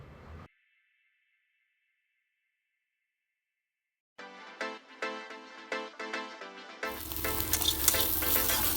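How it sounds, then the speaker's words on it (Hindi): Spiny gourd pieces frying in mustard oil in a wok: after a brief sound and a silent gap, soft clinks and stirring noises build into a loud, continuous sizzle at the end. "फिर ककोरा डाल के नमक हल्दी डाल के बीच में चलाते हुए उसे लाल करके निकाल लेंगे।"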